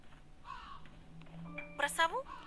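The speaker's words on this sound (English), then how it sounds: "Ravens flew across the ocean sky. A flock of blackbirds circled above us" Ravens call in the game Tiny Bunny. A couple of short, rough caws break out near the end over a quiet, low background hum, while faint voice-like sounds linger beneath.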